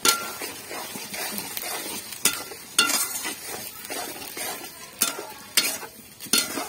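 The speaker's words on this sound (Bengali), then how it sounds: "এটা এখন হচ্ছে প্রথমে মাংসটা কষায় নিব" Meat fries in a pot with onion and ginger-garlic paste, giving a loud, close sizzle broken by repeated sharp scraping and clanking of a spoon against the metal at a rough, irregular rhythm.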